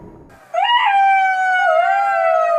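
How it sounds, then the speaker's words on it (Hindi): A jackal in a cartoon story lets out a long, loud, sustained howl that rises and then holds with a gentle waver, alone and close after a brief quiet start. "जब सियार का पेट भर गया तो वह खुश होकर हुआ हुआ की आवाज निकालने की कोशिश करने लगा।"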